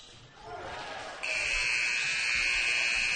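A game-ending basketball buzzer sounds at a boys high school preseason game between Lake Brantley and Wekiva: a loud, steady electronic tone that cuts in partway through and holds to the end over crowd noise.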